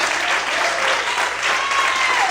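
A church congregation applauds during a pastor's sermon, a dense, steady wash of many hands clapping at moderate distance, even in level throughout with no clear voices over it.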